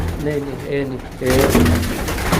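Pigeons coo in soft repeated throaty calls close by, partly overlapped by someone talking in the background.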